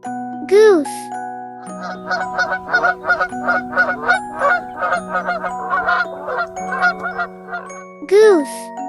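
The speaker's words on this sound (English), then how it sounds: "goose" Goose honking loudly in two short bursts, one near the start and one near the end, with a steady tinkling, jingly children's tune playing underneath throughout.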